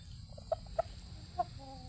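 A young gamefowl stag clucks three short, soft times at steady intervals over a faint, steady background hum.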